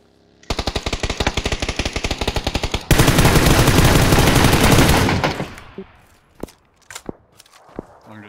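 Distant gunfire in PUBG: Battlegrounds near a warehouse, a steady run of rapid automatic shots followed by a dense roaring burst, then a few scattered single cracks trailing off.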